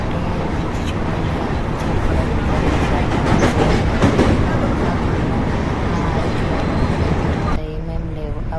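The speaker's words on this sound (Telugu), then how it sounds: "ట్రైన్ వెళ్తుంటే బ్రిడ్జ్ చూడండి" A train crosses a bridge with a loud, steady rumble and rattle of wheels and cars that fills the whole stretch, easing slightly near the end.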